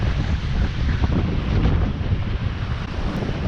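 Strong wind buffets a sailing boat at sea, a continuous, loud, rumbling roar with low gusty blasts against the microphone and no voices.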